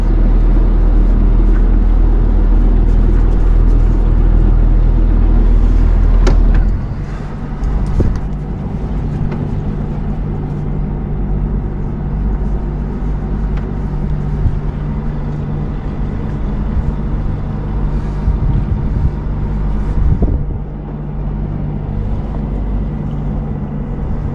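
The engine of an 85-foot sailing yacht runs under power during docking, a loud, steady low rumble and drone that shifts in tone after a few seconds and keeps churning throughout.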